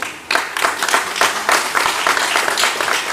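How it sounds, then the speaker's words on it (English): Loud applause from a crowd, sustained clapping that swells and continues steadily throughout. "You applaud"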